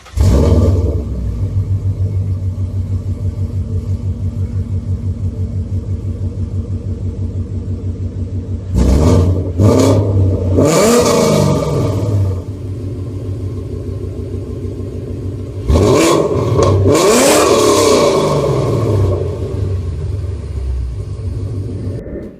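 A 2015-or-later Ford Mustang fitted with BBK long tube headers, no catalytic converters and a Gibson catback exhaust idles with a deep, loud rumble, then revs sharply twice in roaring bursts before settling back to idle, heard close and alone.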